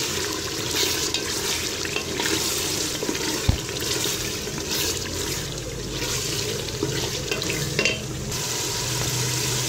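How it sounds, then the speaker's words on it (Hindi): Potatoes fry in a pan of spinach meat curry (palak gosht), giving a steady close sizzle with intermittent stirring and scraping over the high flame, with no talk. "आलू ऐड करने के बाद मैंने इसे थोड़ा सा भूना है"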